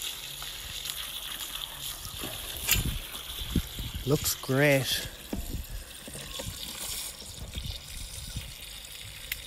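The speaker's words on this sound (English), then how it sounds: "Just filling it up to the top with water." Water gushes steadily into a barrel of charred biochar material, a continuous trickling pour with a brief spoken remark over it.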